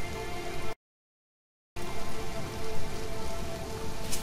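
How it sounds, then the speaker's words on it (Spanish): Black rain falling in the survival game Sheltered, a steady dense patter that cuts out briefly to silence and then resumes at the same even level. "adiós lluvia negra"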